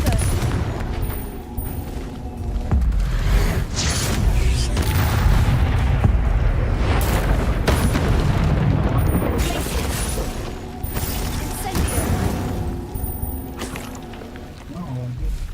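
Confringo and Incendio spell blasts in Hogwarts Legacy, loud repeated booming explosions and fiery bursts rolling over about fifteen seconds, with a player speaking over the combat.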